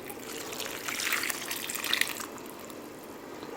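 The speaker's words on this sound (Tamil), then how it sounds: "ஸோ கொஞ்சமாக வந்து நம்ம தண்ணி ஊற்றிக்கலாம்." Water poured into a cooking pot while making drumstick sambar, a steady soft trickle and splash running for a few seconds with no talk.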